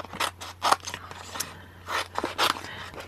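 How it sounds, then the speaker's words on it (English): Scissors snip through a silver-card adhesive sheet in short bursts of close, crisp cuts, with brief pauses between strokes and no talking. "I'm going to cut a piece of the adhesive sheets that fits"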